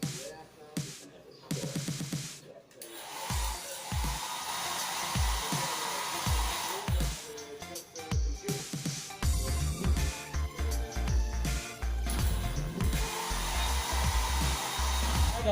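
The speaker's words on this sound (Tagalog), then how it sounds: "I'm done drying my hair" A handheld hair dryer blows steadily while drying hair, its airflow rising and dropping as it is moved and switched, with brief clattering handling noises early on and a continuous loud whoosh building through the second half.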